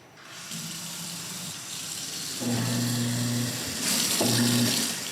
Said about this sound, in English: let's go on over, turn the water on